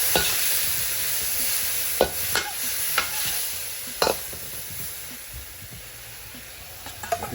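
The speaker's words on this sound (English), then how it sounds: "You immediately add in half our broccoli." Broccoli sizzles in a hot wok with garlic for Chinese beef and broccoli, a steady frying hiss broken by sharp scraping clacks of a spatula stirring every second or so, close and alone.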